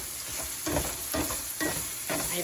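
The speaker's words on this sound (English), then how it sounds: "we're just continuing to frying up this hamburger" Hamburger meat sizzling and frying in a pan, a steady close crackle with periodic louder swells as it is stirred, no voices over it.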